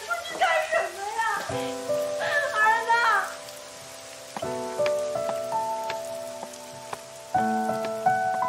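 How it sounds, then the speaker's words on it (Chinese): Rain falls outside a home as a steady, soft patter, mostly buried under music and brief raised voices. "外面下雨了"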